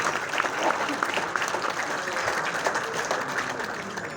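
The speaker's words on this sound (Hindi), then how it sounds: "पर जोरदार तालियां भाई अमित शर्मा के नाम।" A Hindi kavi sammelan audience gives poet Amit Sharma steady, crowded applause, a continuous clapping wash with some speech mixed in.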